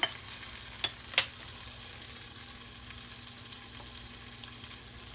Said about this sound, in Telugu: అల్లం వెల్లుల్లి పేస్ట్ వేగిపోయింది ఇప్పుడు టమాటాలు వేయాలి